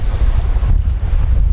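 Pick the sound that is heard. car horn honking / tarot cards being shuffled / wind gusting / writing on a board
wind gusting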